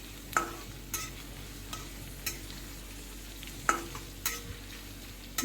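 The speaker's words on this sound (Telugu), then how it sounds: "ముందుగా కట్ చేసుకున్న ఆనియన్స్ వేసుకొని బాగా ఫ్రై చేయాలి" Chopped onions with a little salt frying in a pan: a steady soft sizzle, with spatula scrapes and taps recurring about every second.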